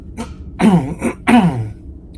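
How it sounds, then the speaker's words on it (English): A person clears their throat twice in quick succession, close and fairly loud, with short rough bursts separated by a brief pause. "Made me clear my throat."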